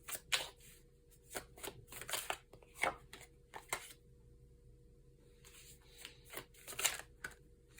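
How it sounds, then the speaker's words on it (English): Tarot cards being shuffled by hand: soft riffling bursts and flicks in irregular clusters, close and quiet, with no voice. "I am very focused on shuffling right now"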